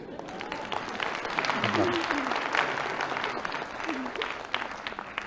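An audience at a comedy lecture breaks into applause, a soft but continuous patter of many hands with voices murmuring underneath.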